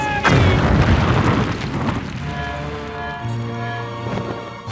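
A cartoon shooting star crashes down with a loud, deep boom and explosion, followed by a rumbling, crackling tail and ringing tonal effects that fade out over several seconds; no talking.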